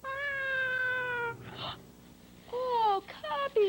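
A cat meows in two sounds: a long, steady, close meow, then after a pause a pair of shorter, falling meows, with a breathy noise between them.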